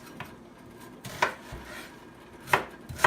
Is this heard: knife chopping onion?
yes